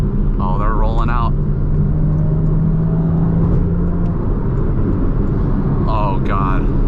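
Traffic rumbles steadily with a car engine droning close by as a McLaren and other sports cars roll past, joined by brief higher engine whines near the start and end, with talk over the top.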